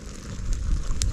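Wood fire burning in a traditional village cooking stove, a steady low roar with sharp crackles and pops near the end, close and with no voices.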